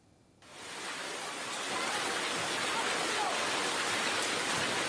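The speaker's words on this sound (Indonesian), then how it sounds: "fenomena hujan es melanda permukiman di Klaten, Jawa Tengah" Hail pelting down on a village settlement in Klaten, Central Java, a dense steady hiss and patter that swells quickly and holds loud throughout.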